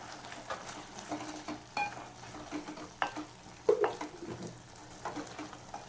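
Chili powder curry for a brinjal dish is stirred in a frying pan, producing faint, intermittent scraping strokes and occasional light clinks over a low, soft sizzle, with no talking.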